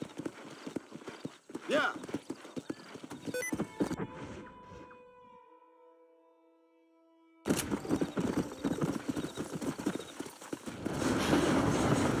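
Horse hooves clip-clop in a steady rhythm in the Red Dead Redemption video game, close and clear, with a brief whinny, a stretch of quiet music and someone talking over parts of it.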